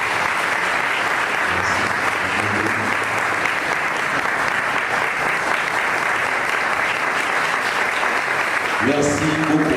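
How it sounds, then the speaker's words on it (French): An audience claps steadily for graduates at a graduation ceremony, with sustained dense applause throughout and a few voices and whistles rising near the end. "Merci de les applaudir."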